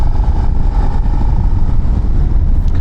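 A steady, loud engine drone with a low rumbling hum, continuous throughout with no speech, like a Suzuki SV-7GX motorcycle cruising at constant revs in fourth gear.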